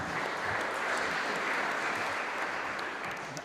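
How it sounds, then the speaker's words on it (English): Steady, moderately quiet applause from a conference audience at a finance event, a dense wash of many hands clapping evenly before slowly tapering off. "I would like to warmly welcome you with an applause"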